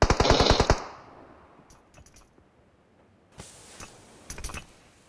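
Automatic gunfire bursts loudly in a shooter video game during a competitive scrim match, a rapid rattling volley at the start followed by scattered shots and a second burst of fire later on, with no talking.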